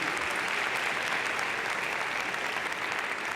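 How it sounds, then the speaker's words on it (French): An audience applauds three racing champions at the Citroën C4 Cactus reveal event. A steady, dense patter of many hands clapping continues at moderate volume for a few seconds without a break. "Vous pouvez peut-être les applaudir parce que c'est rare quand même d'avoir 3 champions"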